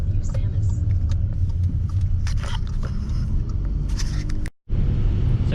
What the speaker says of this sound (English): driving through Kefalonia, headed to see the car.